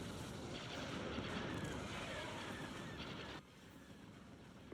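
Ion cannon and weapons fire in a Star Wars strategy space battle between the Executor and a Hapan armada, a dense rumbling barrage of blasts that stays steady, then drops away abruptly near the end.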